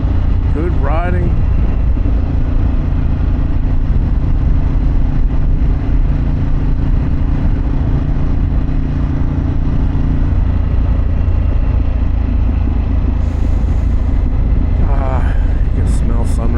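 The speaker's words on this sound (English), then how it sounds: "The crackle of that Vance and Hines exhaust." A Harley-Davidson Pan America with a Vance & Hines exhaust hums and rumbles steadily at cruising speed for the whole stretch, wind rushing over it, while a rider talks on and off.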